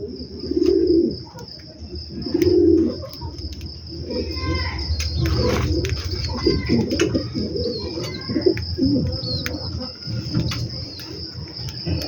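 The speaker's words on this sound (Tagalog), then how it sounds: "Ayan yung isang pares nating ibon." Birds coo softly and repeatedly at close range, low rounded calls over a steady background of insect chirping and a faint high whine.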